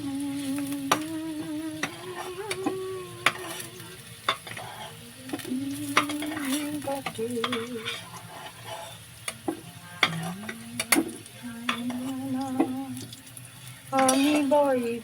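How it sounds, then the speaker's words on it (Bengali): Potatoes fry in a pan, a soft sizzle running beneath repeated scraping and stirring strokes, along with occasional clinks and some faint water-like sounds, all fairly quiet and close. "আলুটাকে ভাজা বসিয়েছি, আলুটা ভাজা হচ্ছে"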